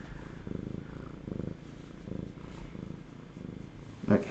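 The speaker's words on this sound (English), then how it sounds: "She likes to purr. She purrs when she gets her foods." A soft, steady cat purr rumbles in rhythmic pulses, close and quiet, ending with a brief louder rustle.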